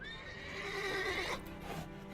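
Geralt's horse Roach in The Witcher 3 gives a single loud, close whinny that rises and then trails off, with a hint of hooves clip-clopping underneath.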